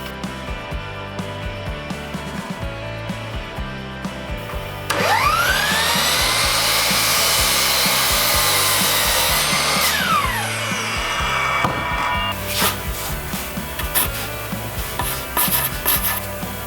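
A power saw cuts through wood studs during basement framing, a loud rising whine and rasp lasting about five seconds, followed by further shorter cutting and rubbing noises amid background clatter.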